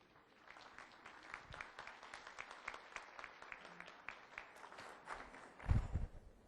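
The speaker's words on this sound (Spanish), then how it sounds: "les brindamos un fuerte aplauso" An academic event audience gives a round of applause, a steady patter of many hands clapping at moderate distance, rising slightly near the end with a few louder nearby claps.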